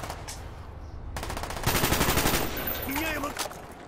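Rapid bursts of automatic gunfire, decoy grenades imitating Uzi fire in Call of Duty: Black Ops, crackle dense and loud for a couple of seconds, with smaller pops and effects around them.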